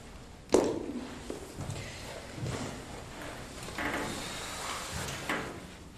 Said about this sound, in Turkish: Çekmecelerimi temizliyorum.